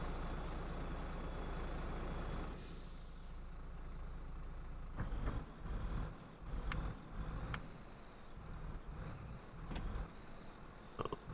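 Tractor in Farming Simulator 22 on a family farm, a steady low engine drone near and moderately loud, with intermittent clunks and knocks as it drives.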